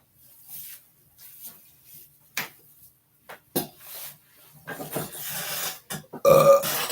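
A burp during a casual live stream, heard among scattered faint mouth and handling noises, ending with a louder, rough burst near the close.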